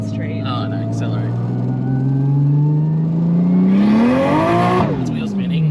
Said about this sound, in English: Alright, gonna give her a first pull. Don't worry about gears, just accelerate.